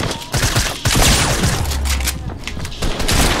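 Rapid gunfire bursts in the Fortnite Battle Royale video game, loud and dense, with several sharp cracks clustered over a few seconds amid game noise.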